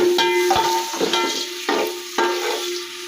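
Sliced onions sizzle in hot oil in a pan while being browned for aloo pulao, with a steady fry hiss broken by several scraping stirs of a spoon against the pan.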